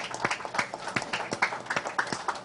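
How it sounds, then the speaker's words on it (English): Audience applause at a book launch event, a dense patter of many hands clapping steadily throughout, moderately loud with no speech over it. "Please, a big round of applause."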